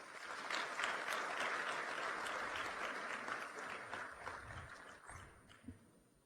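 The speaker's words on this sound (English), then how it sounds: "let us once again give a warm round of applause to our distinguished speakers this morning" Warm applause from a business forum audience for the morning's distinguished speakers, a dense steady roll of many hands that thins out toward the end.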